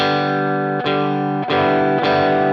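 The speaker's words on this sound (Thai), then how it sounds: "มันจะเริ่มแปลงร่างจากคลีนบูสเป็นโอเวอร์ไดรฟ์" Distorted electric guitar chords played through a RYRA The Klone overdrive pedal with gain raised, three sustained strums with thick, gritty gain, loud and close.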